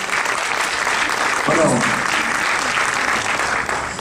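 A festival crowd applauds participants with dense, sustained clapping that swells slightly midway and keeps a steady roar, while a man on stage briefly speaks over it.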